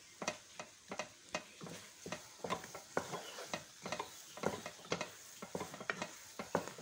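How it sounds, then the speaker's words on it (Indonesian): A spoon stirs thick choux pastry dough in a pan, repeated quick scraping and slapping strokes in a steady rhythm, close up and alone. "Kita aduk terus sampai si adonan putih-putih itu hilang dari peredaran."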